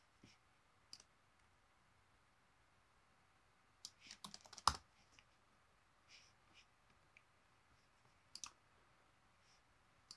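Sparse computer keyboard typing while working on a design in Adobe Illustrator: scattered single clicks and a few short clustered bursts against a quiet background, with no talking.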